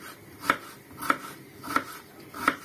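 A knife chops through potatoes on a cutting board in a home kitchen: four crisp, evenly spaced strikes, close and clear against a quiet background.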